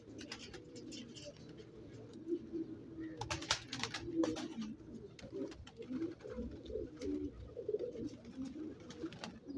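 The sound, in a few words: pigeons cooing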